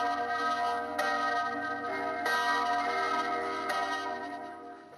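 The bell of the Venice clock tower in St Mark's Square, struck by two bronze statues on the hour, rings out in three spaced, resonant strikes whose long metallic hum overlaps and lingers.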